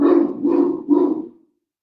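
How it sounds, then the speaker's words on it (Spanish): A dog indoors giving three quick, deep barks in close succession, loud and near, the last one trailing off into silence. "Ay, disculpen mi perro."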